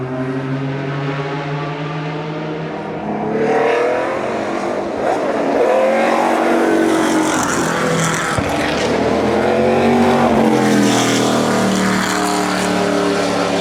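A race car climbs through the Corkscrew at Laguna Seca Raceway during a hillclimb event, its engine loud and near, winding up and down through repeated gear changes for several seconds with no talking.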